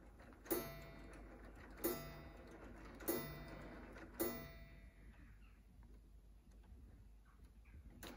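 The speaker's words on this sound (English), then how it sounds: "So maybe I will show you how it looks and sounds when it strikes." A Lego-built clock with a gong, its hand moved to four o'clock, strikes four evenly spaced resonant chimes about a second apart, each ringing and fading, followed by a quieter tail of soft ticking and mechanical rustle, close and alone without voices.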